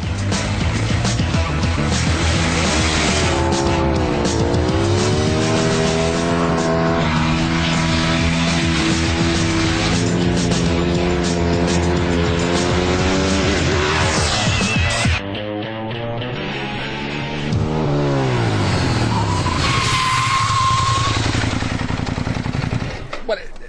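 A Ducati 1098 motorcycle racing against a Lamborghini Gallardo Superleggera, its loud engine whining up through the gears in rising sweeps, dropping briefly before climbing again, close and continuous.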